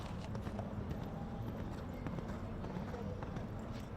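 Horse hooves thud over the turf of an event-rider show jumping course as a young horse goes around, a steady clip-clop rhythm set low under continuous commentary.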